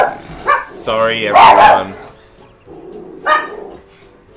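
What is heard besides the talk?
dog barking in the room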